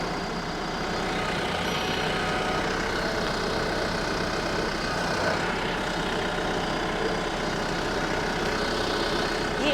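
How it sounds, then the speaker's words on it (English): A steady, rumbling tractor engine runs continuously at close range, holding an even idle-like drone throughout with no pauses. "I'm gonna push down with the tractor."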